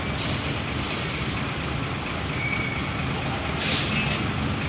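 Trucks and heavy tractor-trailers rumble while boarding a ferry at Merak–Bakauheni port, a steady loud engine drone with a sharp hiss of air brakes near the end.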